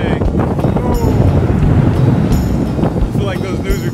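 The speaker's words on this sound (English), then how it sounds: "It's looking pretty windy out here." Strong north wind at a boat yard buffets the microphone in loud, roaring gusts, with brief high whistling tones and a voice faintly audible beneath the rush.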